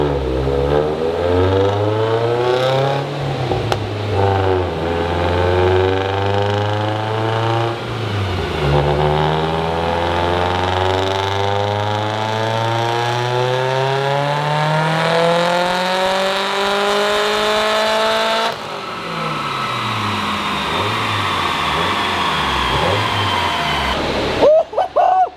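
A stock Subaru WRX with an EJ255 engine and 5-speed gearbox revs hard on a dyno, pitch climbing through repeated pulls up to a high-rpm peak before dropping off, loud and close.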